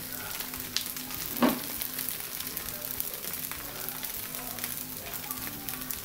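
Rava dosa batter frying on a hot pan, a steady soft sizzle running throughout with a brief louder crackle near the middle, close by and with no talking.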